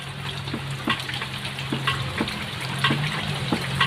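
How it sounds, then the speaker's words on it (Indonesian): Water drained from a catfish pond through a hose, a soft continuous gushing and trickling stream with faint intermittent splashes and taps, fairly distant and quiet. "Kita buang airnya, terus kita isi air yang baru lagi"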